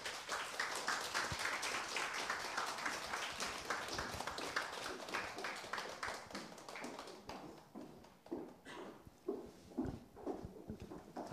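Audience applause at a citizens' political concert welcoming three guests onto the stage: sustained dense clapping from a crowd, thinning toward the end into scattered individual claps.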